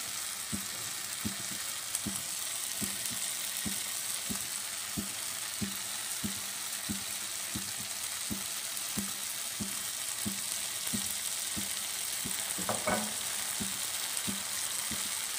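Continuous sizzling of Thai chili sauce paste frying in a pan, with regular soft scraping taps from a utensil stirring, close and steady throughout.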